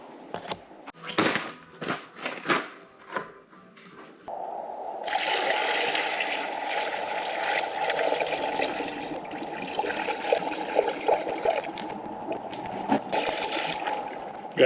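Engine coolant pours and splashes out of a leaking diesel heater on a snowplow truck, a steady wet gush lasting several seconds after a few brief knocks and rustles.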